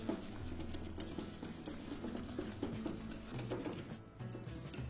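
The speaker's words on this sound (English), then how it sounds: "using a whisk, I'm going to whisk this really well" A whisk beats oil and sugar in a bowl for eggless cupcake batter, making a quiet, close, steady patter of fast scraping taps with no talk.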